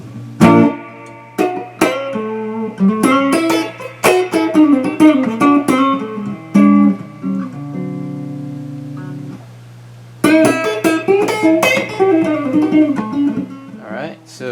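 Electric guitar notes and chords ring out through an Ampeg V4 vintage amp with a reverb tail, phrases pausing briefly before resuming, played alone and fairly loud, with no hum.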